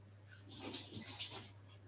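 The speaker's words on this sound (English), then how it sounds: "Let me wash my hands again." Hands washed under a running tap in a home kitchen while cooking fish, plantain, yam and cassava; a brief close splash of flowing water with some rubbing, swelling then easing over about two seconds.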